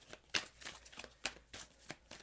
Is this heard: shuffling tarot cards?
yes